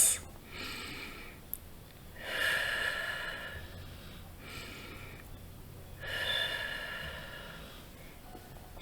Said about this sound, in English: take 3 deep breaths and release